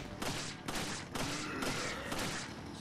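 Pistol shots in the video game Resident Evil 4 HD: several loud, closely spaced gunshot bursts with rough, noisy decay, heard alone without talk.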